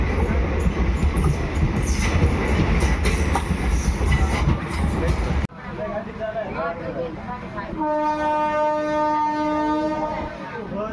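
Bikaner–Delhi Sarai Rohilla SF Express (22471) pulling out of Rajaldesar station after crossing a passenger train: loud rumbling rail noise, then a long sustained horn blast near the end, with talk over it.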